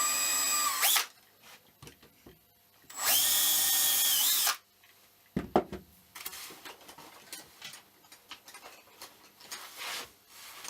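Power drill pre-drilling screw holes in plywood to mount a turntable motor: two loud whirring bursts, then a short burst, followed by clicks, clatter and light handling of small parts and screws.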